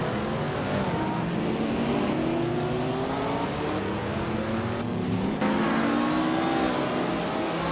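A 1964 Ferrari 158 racing car in a racing video game: its engine screams at high revs throughout and keeps rising in pitch through the gears, with the steady roar of other race cars behind it.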